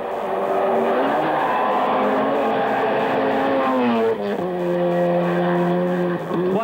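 Rally cars from a 1989 rally, including a Mitsubishi Galant, Mazda, Toyota Celica and Lancia, race past. Engines roar loud and close, with revs rising and falling through gear changes and a brief lift-off before accelerating again.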